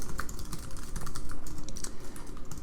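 Rapid, irregular clicking of keys on a computer keyboard as JavaScript is typed, close and fairly soft, with no talking.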